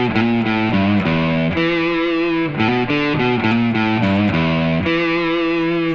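A distorted electric guitar plays a blues lick in the E blues scale, a quick run of bent and picked notes, loud and close with no talking.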